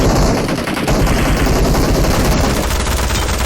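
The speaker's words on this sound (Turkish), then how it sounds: "Adama bak her yere sıkıyor Ali" Automatic gunfire in the mobile battle royale game PUBG Mobile on the Livik map, a dense, loud, continuous stream of rapid shots with no pause.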